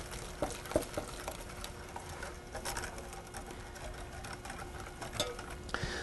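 Hot milk being whisked into egg yolks in a bowl to temper them for a pastry cream filling: a steady, rapid clatter of whisk against bowl that runs the whole time, with no one talking.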